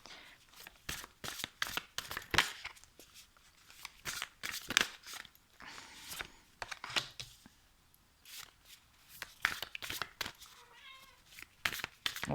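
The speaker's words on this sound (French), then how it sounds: "c'est mon chat que vous entendez." A cat meows close by, several short calls in irregular bursts, over a steady background of clicks and rustling.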